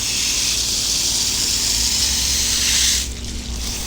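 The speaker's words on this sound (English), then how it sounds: "Just take your hose and go one line at a time." Water from a garden hose sprays steadily onto an Intex pool filter cartridge, making a close, continuous hissing rush that briefly shifts and dips near the end as the stream moves along the pleats.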